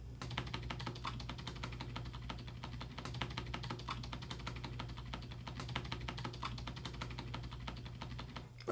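Rapid, steady key clacks on an Apple computer keyboard used to enter single user mode, a continuous close-up run of typing over a low electrical hum.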